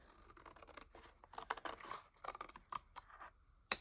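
Scissors snipping through fabric or paper while cutting a tuck pocket for a handmade page, a run of quick crisp close cuts with short pauses between, no talking.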